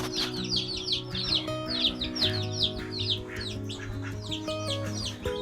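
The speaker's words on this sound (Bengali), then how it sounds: "অস্ট্রেলিয়ান ঘুঘু" Australian doves, kept as pets alongside chickens, chirp and call in dense repeated bursts close by, with steady tonal hums underneath throughout.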